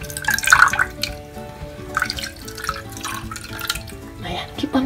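Liquid is poured into a bowl while homemade slime is mixed, giving soft trickling and splashy drips, with children's and adults' voices and other activity in the background.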